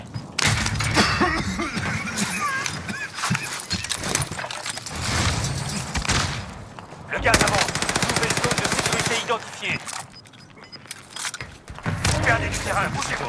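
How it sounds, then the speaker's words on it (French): Rapid automatic gunfire from the video game Modern Warfare on Rebirth Island, bursts of shots rattling almost continuously over the clip with game sounds and action noise, fairly loud and close. "J'essuie des tirs."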